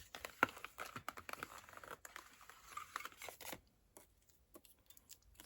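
Paper die-cut shapes of sunflowers and corn being snipped out with scissors, a run of close crisp cuts and crinkles for about three and a half seconds, then only faint scattered rustles.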